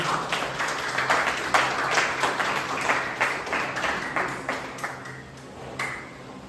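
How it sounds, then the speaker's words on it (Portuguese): A church congregation claps in a loose rhythmic beat, many hands together at moderate distance, steady repeated bursts fading slightly toward the end. "Vamos aplaudir mais uma vez o nome do Senhor Jesus."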